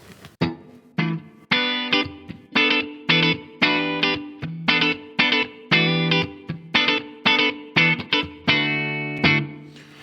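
Electric guitar playing a funky clean tone through an ENGL amp profile in ToneX, rhythmic choppy strummed chords in sharp repeated bursts, loud and close, with no talking.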